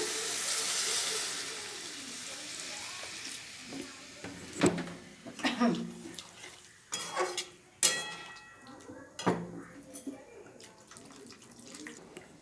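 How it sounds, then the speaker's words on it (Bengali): Water poured into a hot pan of hing-flavoured potato and pumpkin curry sets off a hiss of steam at first, then gives way to scattered clanks, scrapes and splashes as the pan is stirred. "এবার আমি পরিমাণ মতো জল দিয়ে দিচ্ছি"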